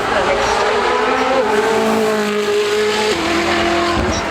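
A powerful production car climbs the Goodwood hill climb course, its engine a loud sustained roar that rises in pitch, drops at a gear change and climbs again, with a voice talking over it.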